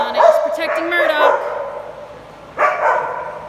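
Small dogs playing outdoors give a quick run of high yips and barks, then a pause and another short burst, close and loud, with people talking nearby.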